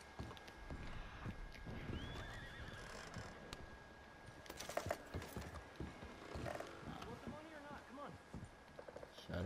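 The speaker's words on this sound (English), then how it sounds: "Let me get my horse over here." Horse hooves clip-clop along among game noises in Red Dead Redemption 2, a horse whinnies in the middle, and mechanical clicks come and go.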